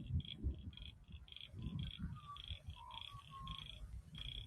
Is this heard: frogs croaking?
yes